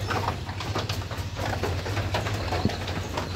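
Pigeons in a pigeon house, giving soft, low, repeated coos over a continuous hum of background noise with no voices.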